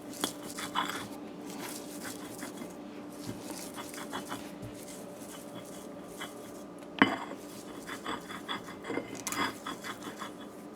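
Shrimp being ground fine for shrimp choka makes faint, irregular scraping and knocking clatter that runs continuously with occasional sharper taps.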